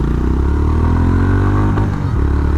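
A Honda CB350RS motorcycle engine revs up close and loud, its pitch climbing steadily through a short burst, then dipping briefly near the end.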